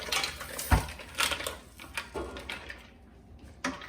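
Mussels and parsley stirred in a pot, with scattered clinks and scrapes of shells against metal, a sharp knock near the start and lighter clatter after, fairly quiet.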